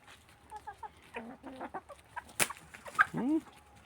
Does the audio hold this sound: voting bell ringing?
no